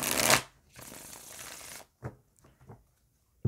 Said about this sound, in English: I'm going to pull